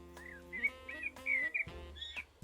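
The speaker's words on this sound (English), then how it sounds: "Listen, that's the sound of a blackbird." A blackbird sings nearby with clear fluting phrases and chirps outdoors on a hillside path, repeated several times over a steady low background hum.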